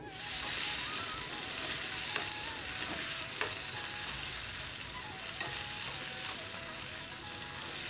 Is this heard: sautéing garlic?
yes